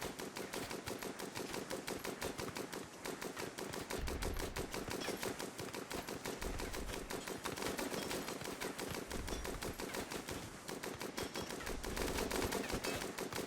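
Vulcan cannon turret in RimWorld fires in a rapid, unbroken stream of shots, a dense mechanical rattle that runs the whole time at moderate level, with no talking.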